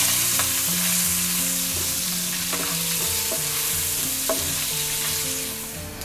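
Dal, chopped cashews and curry leaves fry in hot oil in a pan, with a constant close sizzle and the repeated scrape and tap of a spatula stirring throughout.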